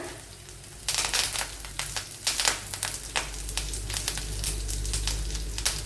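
Curry leaves hit hot oil in a pan for Kerala-style egg mappas and set off a sudden loud burst of crackling sizzle. The popping stays close and dense, then settles into steady frying hiss.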